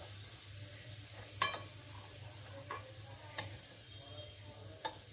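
Food frying quietly in a pan while being stirred, a low steady sizzle broken by several light scraping clicks of a spoon against the pan, with no talking.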